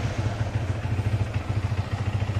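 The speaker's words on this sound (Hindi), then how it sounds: "तो पहले बाइक स्टार्ट कर लेते हैं एंड डालेंगे इसको सेकंड गियर पे।" Yamaha R15 V3 motorcycle engine running steadily in gear with a new Rolon brass chain and sprocket set, a close, even low throb with light mechanical clatter and no talking.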